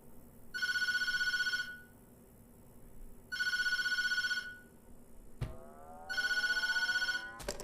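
Telephone in the horror video game Tattletail rings in three loud, evenly spaced bursts of electronic trilling, with a brief rising tone sweep between the second and third rings over a low ambient hum.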